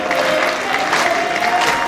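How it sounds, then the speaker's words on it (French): A church crowd in Paris claps for the band, a short steady burst of applause over a faint sustained musical tone. "Applaudissez encore le groupe, applaudissez le groupe."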